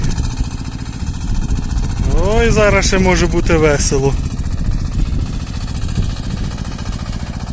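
Tractor engine strains while hauling a fully loaded trailer of pumpkin harvest through soft sand, a steady low rumble running throughout with people talking over it.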